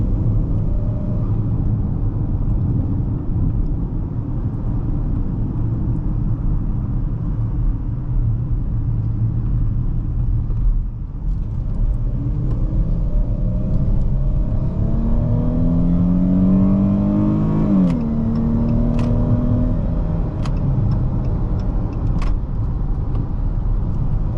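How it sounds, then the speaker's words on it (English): A 2021 Dodge Charger SXT's 3.6-liter V6 engine hums steadily, then climbs in pitch as it revs up under acceleration, with a faint shift and continued drone inside the cabin. "I still like how this V6 sounds."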